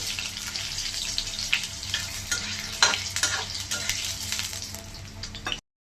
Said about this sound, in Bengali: তেলটা গরম হয়ে গেছে, এখন আলুটাকে ভেজে নিচ্ছি।